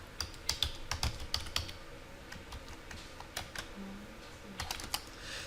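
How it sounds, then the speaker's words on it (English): Network configuration text being entered on a computer keyboard, a string of sharp clicking keystrokes in uneven runs with short gaps, close and fairly quiet over faint room hum, no speech. "I will type unauthorized access is prohibited."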